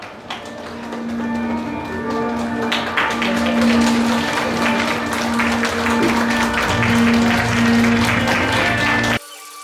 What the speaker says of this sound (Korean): 내빈 여러분들께서는 자리에서 일어나셔서 새로운 인생을 시작하는 이 아름다운 부부에게 힘찬 박수를 보내주시면 감사하겠습니다.